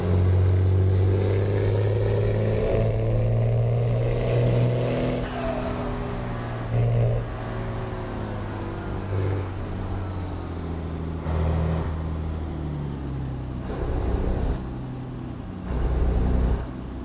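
Pickup truck engine in a truck simulator game, a loud continuous drone with steady low harmonics that rise and fall as the engine revs, broken by brief gear-shift surges near the end, heard alone.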